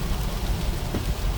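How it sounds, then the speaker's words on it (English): Steady rain falls during a storm, a dense, constant wash of noise with no voices. "this is just the rain that we're getting now"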